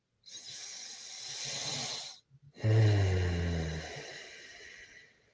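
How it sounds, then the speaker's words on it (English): Deep, slow breathwork close to the microphone: one long airy inhale, a short pause, then a longer, fuller exhale with a soft throaty rasp, alone and fairly quiet. "Go ahead and inhale and exhale and relax on that exhale."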